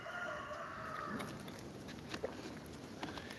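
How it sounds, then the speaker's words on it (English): A rooster crows in the distance, faint and drawn-out beneath steady outdoor background noise, with a few soft footstep-like taps. "Like down the road where I hear that rooster crowing now."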